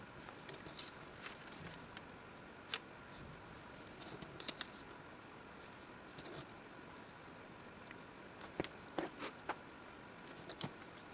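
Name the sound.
cutting out paper pieces for a collage, likely scissors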